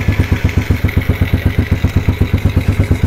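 A motorcycle engine runs at idle, a steady near thumping pulse of rapid regular firing beats with a mechanical clatter, close and loud with no talk.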